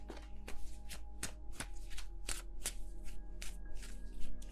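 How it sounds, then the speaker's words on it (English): Tarot cards shuffled by hand at close range, a quick series of crisp riffling slaps and flutters repeating in an uneven rhythm, quiet and alone without talk. "Can I please shuffle my cards?"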